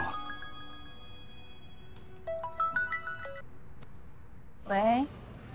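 A phone ringtone plays an incoming-call melody of bright stepped electronic tones, with a short rising burst near the end, heard at moderate level in a quiet room.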